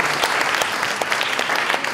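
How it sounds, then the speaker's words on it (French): Audience applause at the 2018 Prix Edgar Faure book prize ceremony, a steady wash of many hands clapping from a seated crowd in a hall, continuous and even throughout with no voices over it. "Nous pouvons applaudir Agnès Verdier-Molinier"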